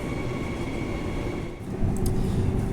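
Perth passenger train running at speed on the Fremantle line, a steady loud rumble of wheels and rails with a constant hum, briefly dipping then surging back.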